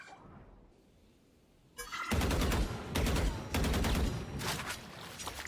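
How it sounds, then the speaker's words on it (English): Gunfire in a Valorant esports match, fired through a smoke cloud. After a quiet start come loud, repeated bursts of rapid automatic shots, close and punchy, with short pauses between them. "Now shooting through the smoke"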